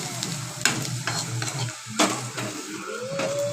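A spatula scrapes and stirs a chili powder mixture in a frying pan, quick scraping strokes over a steady sizzle with occasional metallic taps against the pan, close up, no voices.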